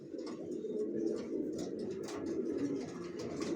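Tagged white grizzle racing pigeons, newly adult, coo softly at close range in low, rolling bursts over a quiet background.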